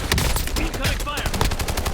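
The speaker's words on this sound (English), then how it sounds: "Incoming fire." Call of Duty Warzone gunfire on Fortune's Keep: rapid, dense automatic bursts fill the moment, loud and close, mixed with game sound effects and a brief in-game voice line.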